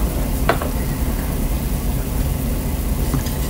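Pot roast gravy stirred in a pan, a steady soft bubbling sizzle with faint scraping of a utensil against the pan bottom, no talk.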